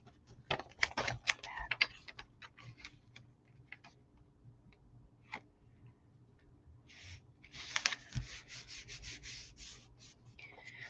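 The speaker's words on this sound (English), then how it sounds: "This is a brand new paper snips. I should not be cutting paper with it" Brand-new paper snips cutting paper during a live stamping craft session, giving crisp scattered snips and rustling at close range, louder bursts in two clusters with quiet gaps between.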